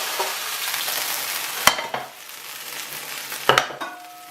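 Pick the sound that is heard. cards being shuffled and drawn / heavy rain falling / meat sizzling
meat sizzling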